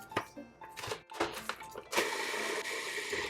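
A food processor runs in a kitchen, heard first as short choppy pulses and clunks, then settling into a steady whirring drone for the last second or so.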